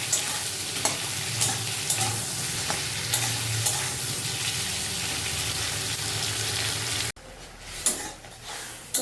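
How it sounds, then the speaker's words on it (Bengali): Ridge gourd pieces sizzle steadily in hot oil for about seven seconds, with occasional scraping clicks of stirring, before the sound abruptly drops to a quieter, dull background with a couple of soft knocks. "আর ঝিঙেগুলোকে একটু ভেজে নিয়েছি"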